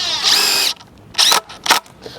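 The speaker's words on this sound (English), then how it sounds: "Boom, we drilled it in." Cordless power drill driving screws into wooden boards while building a bucket garden holder: a loud sustained whir, then two short sharp bursts as the screws seat flush, with brief quiet gaps between.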